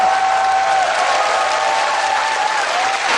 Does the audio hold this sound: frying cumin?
no